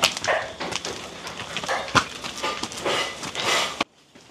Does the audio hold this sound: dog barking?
yes